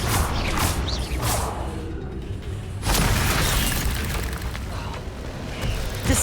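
Spell explosions from the Confringo fire curse in Hogwarts Legacy, a PC game, a dense crackling burst with a whooshing onset near the three-second mark, then sustained rumbling and debris noise that stays loud to the end.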